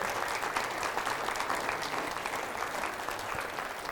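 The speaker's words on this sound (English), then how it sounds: "could you please give everybody at the team at First National Toowoomba a round of applause?" Audience applause at a real estate seminar fills the space with dense, steady clapping from a crowd, loud and continuous with no talk over it.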